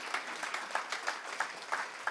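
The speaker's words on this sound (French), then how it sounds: "je voudrais qu'on les applaudisse encore une fois" Applause from a church audience at a Christmas service, honoring the performers of a play: steady clapping from many hands across the whole stretch, with individual claps popping out at a moderate, slightly distant level.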